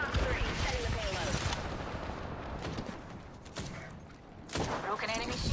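Gunfire in Apex Legends, played as Caustic, bursts and volleys of shots crackling over dense game noise, with a heavy burst near the start and another at the end, while a player talks throughout.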